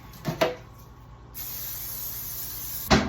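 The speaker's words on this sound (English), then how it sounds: "So I'm just going to spray a little pan on it." A couple of soft taps, then a steady hiss of cooking spray onto parchment paper in a pan lasting about a second and a half, ending with a light clunk.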